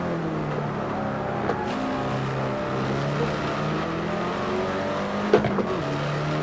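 A Hyundai Elantra N on a track lap, its engine droning steadily and loud throughout with shifting revs, a brief sharp knock near the end and no talking.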